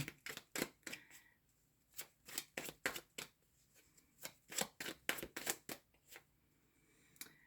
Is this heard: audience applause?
no